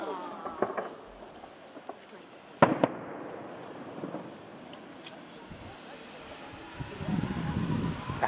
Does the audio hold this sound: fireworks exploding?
yes